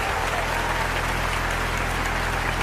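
An audience at a Hindi kavi sammelan poetry recital claps in a continuous, even roar of applause with a low steady hum underneath, loud and unbroken throughout.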